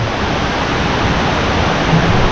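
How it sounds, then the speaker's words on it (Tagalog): Heavy rain pouring steadily, a dense, even hiss that stays loud and constant with no pauses and no voices over it. "Lumakas kasi yung ulan."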